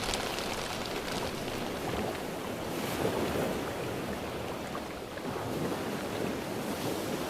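Ocean waves wash around a sea kayak off Haida Gwaii's Graham Island, where rebound waves and clapotis come from all directions. The water makes a steady, full-band wash mixed with wind rumble on the microphone, with no voices.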